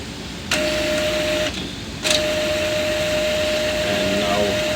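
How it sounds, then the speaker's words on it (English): An Epson 3210 inkjet printer warming up, a mechanical whir with a steady tone that starts, pauses briefly, then resumes and runs on. "Printer is warming up"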